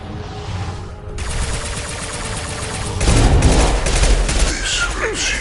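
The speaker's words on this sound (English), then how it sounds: "Firing a high-impact shot!" High-impact gunshots from a firefight in Mass Effect Legendary Edition ring out as loud rapid bursts of weapon fire, with heavier blasts erupting midway and combat effects continuing afterward.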